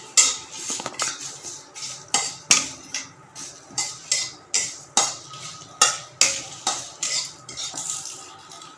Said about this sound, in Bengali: তেজপাতা শুকনো লঙ্কা এমনি সাদা জিরে আর পাঁচ ফোড়ন পাঁচ ফোড়ন এটা একটু শুকনো করে ভেজে নিতে হবে